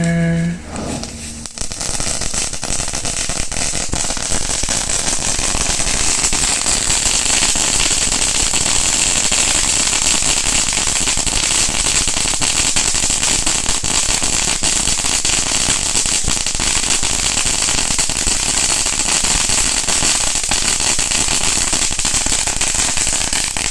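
Dense, continuous crackling of a dragon firework fills the clip, a loud, steady stream of rapid pops and hissing that runs unbroken for many seconds.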